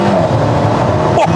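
The four-cylinder engine of a 2013 Alfa Romeo 4C mid-engine sports car accelerates in a close, loud, continuous drone that fills the whole brief moment.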